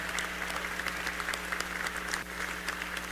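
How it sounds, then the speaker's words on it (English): Applause from a gala audience honouring the evening's VIPs at a tenth-anniversary celebration, a steady, fairly faint wash of clapping over a low hum, with no voices. "ladies and gentlemen, give them a round of applause, our VIPs for this evening"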